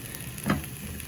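Finely shredded cabbage, cut into longish strips for a Tamil-style cabbage stir-fry, drops into a hot oiled pan and gives a short, louder burst of sizzling over a steady, low background hiss of frying, with no talk.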